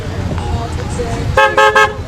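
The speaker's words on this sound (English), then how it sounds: "Honk the horn." A car horn toots in three short bursts at a commemorative parade, loud and near, over a rumble of street and crowd noise with people talking.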